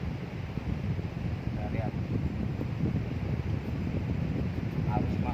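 Strong wind while fishing blows as a continuous low rumbling buffet across the microphone, with a brief spoken remark over it.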